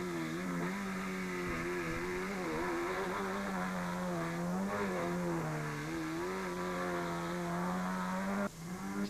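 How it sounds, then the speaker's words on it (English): A rally car with a broken exhaust at the 2007 Toyota Dealer Rally holds a harsh, droning engine note that rises and falls slightly across several seconds. It sounds steady and fairly close, with no talk over it. "A broken exhaust only added to the enthusiasm."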